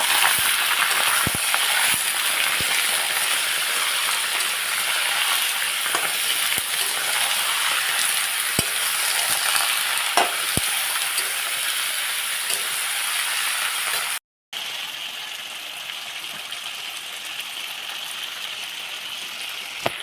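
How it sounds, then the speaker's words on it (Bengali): Pieces of duck meat fry in a hot pan with a steady, continuous sizzle and hiss. Faint clicks and stirring knocks sit underneath, and the sizzle breaks off briefly near the end before resuming. "মাংসটা প্রায় ভাজা হয়ে গেছে।"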